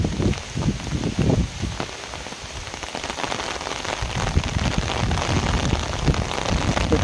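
Heavy rain pours steadily on surfaces in a village garden, a dense, continuous hiss with occasional louder spatters, close and constant with no voices.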